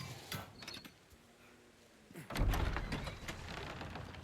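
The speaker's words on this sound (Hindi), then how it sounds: "चल खोल दे दरवाज़ा" A church door swings open in the video game GTA V, with a creaking mechanical scrape that builds into a louder rumbling, grinding movement partway through. No one speaks.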